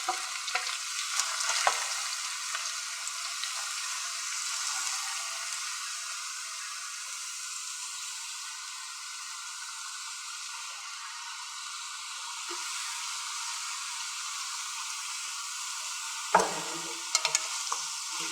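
About a kilo of grated carrots frying in oil for gajar ka halwa, a long steady bright sizzle with faint stirring, and a couple of sharp utensil knocks near the end.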